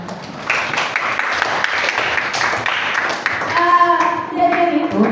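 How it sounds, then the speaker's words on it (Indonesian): A class claps their hands together in a sustained burst lasting several seconds, with some voices and a sustained tone audible near the end. "Ini tepuk tangan dulu."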